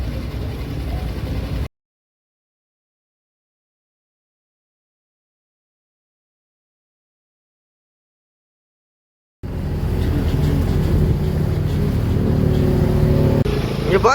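A tourist motorboat on a ride at Poovar, Kerala, drones with a loud, steady engine roar and water rush, cutting out to silence for several seconds before resuming, with voices over it.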